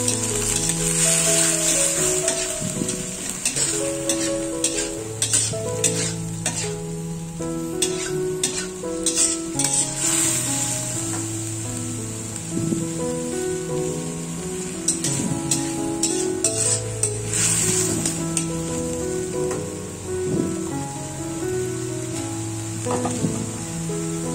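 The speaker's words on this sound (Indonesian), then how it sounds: "Tambahkan sedikit air. Aduk kembali." Bean sprouts frying in a pan after water is added, with a loud, constant sizzle under repeated stirring scrapes and clinks. A steady musical tone runs beneath the whole stretch, and no one speaks.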